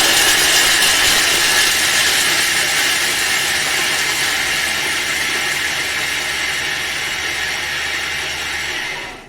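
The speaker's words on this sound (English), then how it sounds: "So it's going to grate down. It's going to be noisy for 10 seconds on speed." A Thermomix grating parmesan at speed 7 gives a loud, steady high-pitched whir and grinding roar that holds evenly for about nine seconds before winding down at the end.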